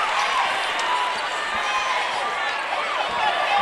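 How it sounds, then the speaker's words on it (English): Loud, steady roar of a home crowd at a USC Aiken men's college basketball game against Georgia College, continuous and dense with shouting, with faint sneaker squeaks and ball sounds mixed underneath. "This crowd is very loud tonight"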